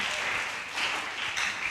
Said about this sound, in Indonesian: Kasih tepuk tangan dulu buat istri-istri yang rajin ke gereja.